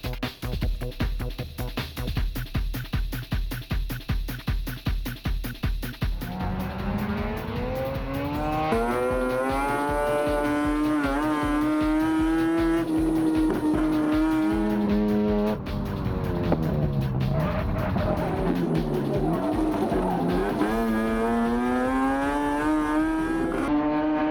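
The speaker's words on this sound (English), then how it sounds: "Now Dale rocked up in a rotary-powered Mazda 323." A rotary-powered Mazda 323 race car lapping a track, its high-pitched rotary engine howling loud and close as it climbs and drops through gears, with rapid revving pulses early on and sustained wailing afterward.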